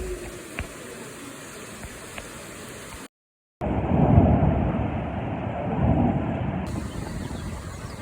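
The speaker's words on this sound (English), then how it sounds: "The thunderstorms have arrived." Thunderstorm with steady rain hiss, a brief silence, then a long loud rolling rumble of thunder that swells twice before fading back into the rain.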